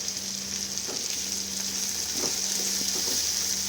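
Vegetables stirred in a frying pan while making spicy semolina, a continuous close sizzle with occasional soft scrapes and taps of the spoon.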